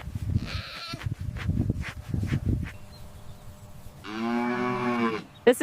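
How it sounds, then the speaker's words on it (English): A white Arctic mountain goat makes rough, irregular low calls, then lets out one sustained, wavering bleat near the end, fairly close and alone. "Tiny white Arctic mountain goat."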